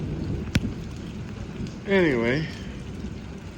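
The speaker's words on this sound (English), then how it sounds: "just thought I'd take a picture of the rain" Rain falling in the desert, a steady soft patter and hiss in the background, with someone talking briefly over it and a sharp click near the start.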